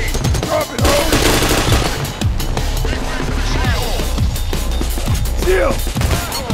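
Sustained machine-gun fire and scattered gunshots in the heist video game Payday, loud and nearly continuous, with crashes and shouting voices mixed in.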